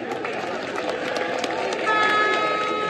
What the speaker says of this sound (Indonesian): Tan Sri Lim Kit Siang, satu tepukan pada beliau.